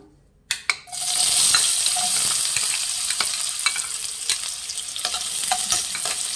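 Chopped onions drop into hot oil in a pan, setting off a sudden loud sizzle after a brief quiet moment, then a steady close frying hiss with occasional pops and stirring scrapes throughout.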